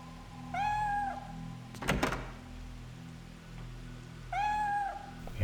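A cat in the video game Fatal Frame 3 gives two clear, drawn-out meows several seconds apart, over a low ambient hum, with a soft thump or knock in between.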